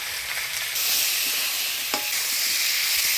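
Potato, eggplant and gourd stems sizzle steadily in hot oil while being stirred with turmeric and salt, with a brighter burst of frying after the first second and a few light scraping knocks of the spoon.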